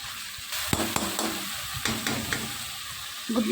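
Egg fried rice mixture being stirred in a hot pan, a continuous sizzle broken by several sharp spatula scrapes and knocks against the metal, close and clear, with no voices.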